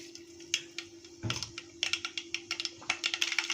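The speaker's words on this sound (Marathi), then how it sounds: "आता यामध्ये मी मोहरी टाकून घेते" Mustard seeds splutter in hot oil for a spicy Maharashtrian vada curry, giving quick, sharp, irregular pops and clicks. The pops grow busier toward the end over a faint steady hum.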